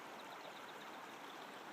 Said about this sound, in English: this is the Blackfoot River